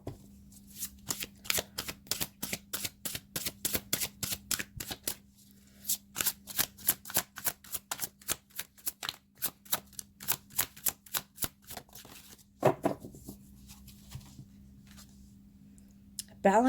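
Tarot cards are riffled and shuffled up close in long runs of rapid crisp flicks, with a pause mid-way and a brief softer handling sound near the end.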